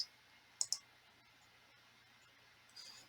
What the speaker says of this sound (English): let me click off of this